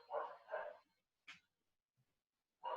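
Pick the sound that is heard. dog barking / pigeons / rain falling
dog barking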